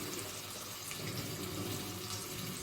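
Water poured steadily into biryani masala while cooking, a continuous faint splashing flow with no voices.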